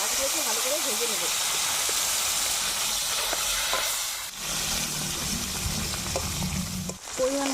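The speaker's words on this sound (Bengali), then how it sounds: "এবার এই মাছগুলোকে ভালো করে ভেজে নেব" Dried fish (shutki) fries in a pan with a loud, constant hissing sizzle close to the microphone, while a faint voice sounds briefly in the background.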